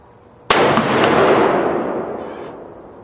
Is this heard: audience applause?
no